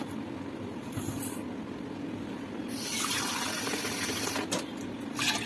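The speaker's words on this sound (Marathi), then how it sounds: "आपण 3 कप पाणी टाकलं आणि परत मिक्स" Water pours into a bowl of fried rice and moong khichdi, a soft continuous splashing stream with a brief rush partway through, heard at moderate volume without talk.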